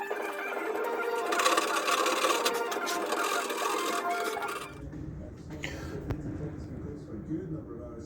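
A Dremel rotary tool carves out soft timber for a rustic mantelpiece with a steady high whine for several seconds before cutting off, after which quieter handling noises follow; talk is heard over it.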